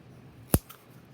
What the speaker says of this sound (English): I would take a roll and a pair of scissors